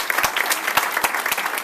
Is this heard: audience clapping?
yes